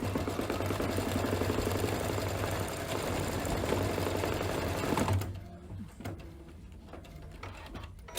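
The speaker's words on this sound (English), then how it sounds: "Once it does the actual tack down of the little circle there, then you can just let it go." An embroidery machine stitches the tack-down of a small pie appliqué circle on a tea towel, a steady close mechanical whir that cuts off abruptly partway through, leaving quiet room noise.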